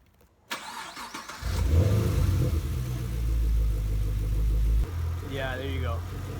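5th-gen Camaro SS V8 with a disconnected sensor cranks, catches and surges erratically, its loud, uneven revving holding and wavering; a voice speaks briefly over the engine near the end.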